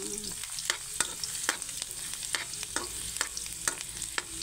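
Garlic and ginger frying in a pan for Filipino chicken adobo, a steady bright sizzle punctuated by repeated scrapes and clicks of stirring, close and continuous without talk.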